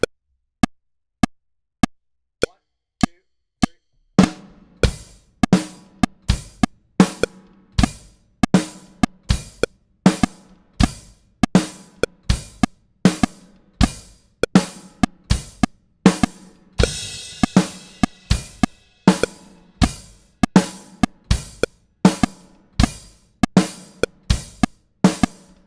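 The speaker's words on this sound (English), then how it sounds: "Hi-hat's only going to match the bass drum and the snare drum" A drum kit plays a metric-modulation groove with kick, snare and hi-hat: a few sparse, evenly spaced clicks open, then a dense, steady pattern of sharp hits runs close and loud throughout.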